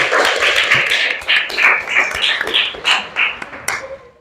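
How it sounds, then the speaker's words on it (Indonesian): A classroom of students clapping hands together at a lesson's start, a dense, lively burst of many small palms, loud and close, gradually thinning out toward the end with a few last claps. "Ya, tepuk tangan."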